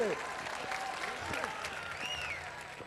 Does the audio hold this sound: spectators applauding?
yes